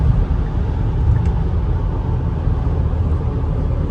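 A KIA Sorento 2.2 diesel with an automatic gearbox accelerates on the road, its engine and road roar loud, steady and close, with no talk.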